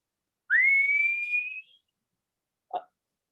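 A whistle blown once at a short play reading gives a single clear rising blast of about a second in near silence, followed by a brief soft knock.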